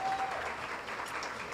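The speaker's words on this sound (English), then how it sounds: "big round of applause for our all ladies from Carabella" Audience applause at a school mothers' guild fashion show and luncheon, a short, steady wash of clapping from a room of guests, moderately faint and alone.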